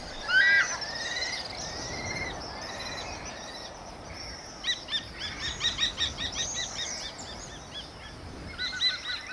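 A kestrel calls from its cliff territory in Botswana, giving thin, high, repeated sharp notes, first in short bursts and then in a faster rapid series, moderately near against a soft background hiss.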